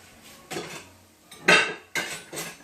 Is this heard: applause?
no